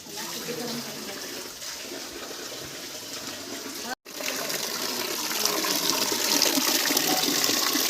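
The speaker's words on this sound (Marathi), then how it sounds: "बाराही महिने गोमुखातून पाणी वाहत असतं." Water pours continuously from a cow-mouth stone spout at the Keshavraj temple in Asud, Dapoli, a loud steady gushing with a brief cut midway, then growing slightly stronger.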